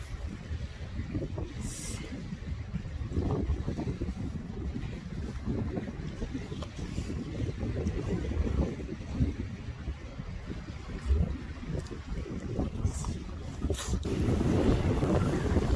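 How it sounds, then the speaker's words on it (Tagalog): Wind buffets the microphone outdoors in Aspnäs Nature Park in Sweden, a loud continuous rumbling roar with gusts swelling and fading throughout. "Nice wind. Nice, you guys. It's only windy."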